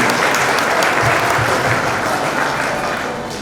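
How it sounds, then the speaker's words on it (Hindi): Crowd at a Mahashivratri celebration clapping for the children, a loud continuous wash of many hands that tapers slightly toward the end. "सभी बच्चों के लिए हम सभी जोरदार ताली बजाएंगे इनका उमंग उत्साह बढ़ाने के लिए।"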